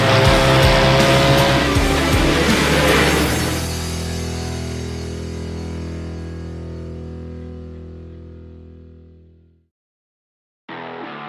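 World of Outlaws sprint cars racing on dirt at Eldora in iRacing roar loudly together at first, then the engine drone fades away over several seconds into silence before another burst of engine noise cuts in.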